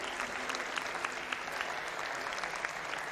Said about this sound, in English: I think we can give her a huge round of applause